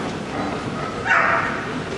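A six-year-old border collie at the Crufts 2008 international agility event gives one sharp bark over steady indoor crowd noise, about midway through.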